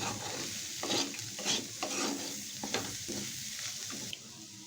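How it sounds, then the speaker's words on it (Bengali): Raw peanuts are stirred in a pan over a low gas flame, giving repeated scraping and rattling strokes over a soft, steady sizzle. The sound is close and moderately quiet, with no talk. "কাঁচা বাদাম দিয়ে খুব ভালো করে এক দু মিনিট একটু এইভাবে একটু গ্যাসের ফ্লেমটা লো করে নাড়িয়ে চাড়িয়ে নেবো"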